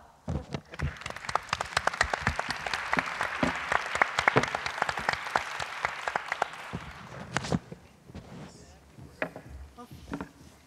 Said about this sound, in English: So let's applaud.